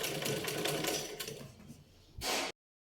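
A sewing machine stitches a buckram strip onto a trouser hem, a steady close whirring run that slows and fades before a brief louder burst of stitching at the end.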